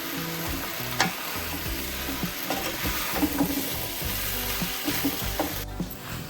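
Chicken being stir-fried in a pan for Indian-style Hakka chow mein: a steady, loud sizzle runs throughout, with scraping and clinking of the spatula stirring it at irregular intervals, and no voices.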